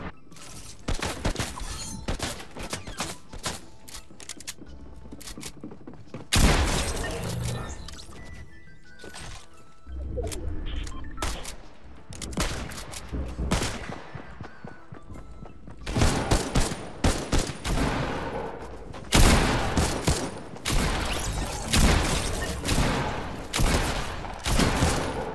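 Rapid gunfire from an automatic sniper rifle in Fortnite, with dense bursts of loud shots repeating through most of the stretch, separated by short lulls and a few quieter gaps.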